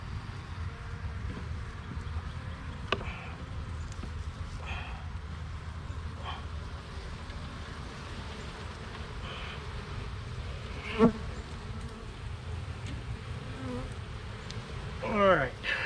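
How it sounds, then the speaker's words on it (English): Honey bees buzzing close around a heavy frame of capped honey, a continuous low hum with individual bees droning past, plus occasional faint knocks. "We got a couple bees we accidentally got there."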